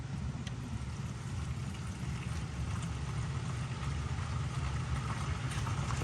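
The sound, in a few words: water flowing from a full tank through a valve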